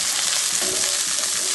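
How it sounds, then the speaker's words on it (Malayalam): Chopped shallots, green chilli and garlic sizzling steadily in hot oil for a Kerala fish curry, a dense continuous frying hiss, close and loud, with a faint stir partway through and no talk. "ചെറിയുള്ളി നന്നായി ചെറുതായി അരിഞ്ഞ് നന്നായി ഒന്ന് കായട്ട്"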